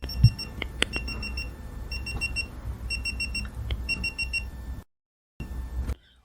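Repeated short electronic beeps from a Cigman dual laser distance meter in quick clusters, sharp and close, over a low background hum, stopping briefly near the end before resuming faintly.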